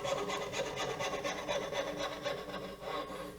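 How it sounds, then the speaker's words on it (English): A small fret saw cutting a double tenon in wood, steady rapid rasping strokes, close and moderately quiet, with no talking. "Little fret saw is great for this and dovetails"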